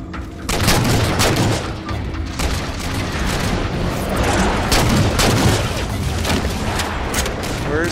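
Loud, dense gunfire from the Halo 4 Spartan Ops video game, with booming shots and explosions piling up continuously throughout, including sniper fire among the battle noise.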